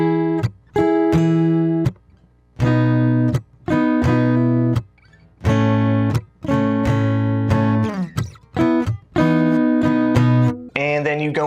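An acoustic guitar strums the chord pattern of a song in crisp bursts of down and up strokes with short muted gaps between them. It is close and bright, with no voice.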